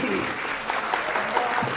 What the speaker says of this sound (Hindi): तालियां बराबर उठाते रहो आप लोग।